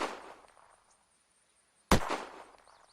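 A gunshot in the video game Unturned rings out as a single sharp, loud report with a short decaying tail, following the fading end of an earlier shot.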